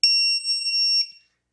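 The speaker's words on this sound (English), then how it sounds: "When we got it correctly, we should get a loud beep." A modded Nerf blaster beeps loudly when a 2S LiPo battery is connected: a long, high electronic tone lasting about a second, followed by a shorter beep, then silence.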